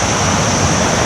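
The Kuang Si waterfall in Laos gives a loud, steady roar of falling water with wind-like rush, close by and constant through a short stretch with no voices.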